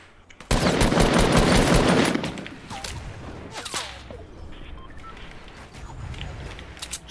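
Automatic gunfire in Fortnite Battle Royale, a dense loud burst lasting under two seconds, then scattered lighter shots and clatter trailing off in the background.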